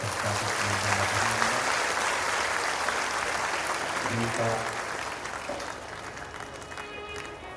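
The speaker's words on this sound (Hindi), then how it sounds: "सभी यजमान परिवार के लिए एक बार जोरदार ताली बजा सकता है" Applause for host families rolls steadily through a large Shiv Mahapuran katha pavilion, a dense continuous patter from a big crowd with a voice briefly heard over it.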